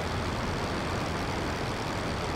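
Rotary engine of a Nieuport biplane in the Rise of Flight flight sim, a steady, dense, loud drone with a heavy low rumble, unbroken and alone.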